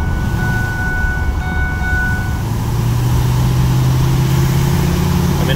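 A Ford 6.4L Powerstroke diesel pickup with a turbo failing to build boost accelerates, giving a loud, steady low engine drone and road rumble from inside the cab with a slowly rising tone.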